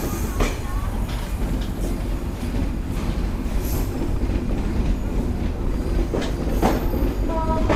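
The Kapotaksha Express pulls out of Chuadanga railway station with a loud, steady rumble and rhythmic wheel clatter, sharp squeals and brief tonal whines cutting through near the end.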